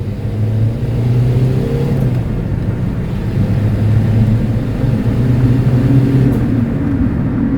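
A scruffy Citroen C15 van engine pulls hard as it accelerates, a steady loud drone rising in pitch and holding close throughout with no talk over it.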